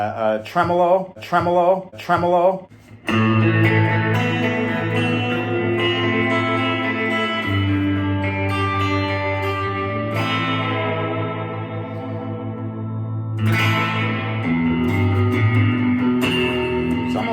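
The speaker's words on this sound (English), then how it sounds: "So much chime, so much jangle. It sounds the best with reverb and a delay and a tremolo." A Fender Jazzmaster electric guitar plays chiming notes and sustained chords soaked in reverb and echoing delay, with a wavering tremolo shimmer, loud and alone.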